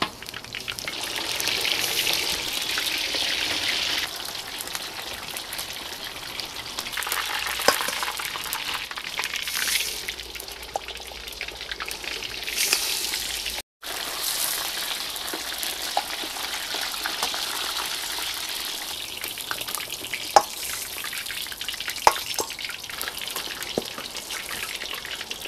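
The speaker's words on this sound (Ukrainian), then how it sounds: "закладаємо м'ясо в невеликій кількості," Veal pieces frying in hot oil inside a kazan, a continuous close crackling sizzle with scattered pops and spatters throughout, no voices.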